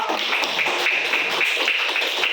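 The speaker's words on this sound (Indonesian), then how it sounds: "Tepuk tangan dong." A class of students claps hands together, a dense, steady burst of close applause with no talking.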